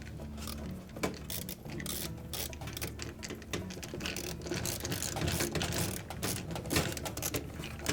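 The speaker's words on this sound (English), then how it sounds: "we're going to tighten the clamp on it" A hose clamp is ratcheted tight onto a dishwasher's rubber connector with a tool, producing a rapid, continuous metallic clicking and ratcheting close by, with brief scrapes and knocks of handling.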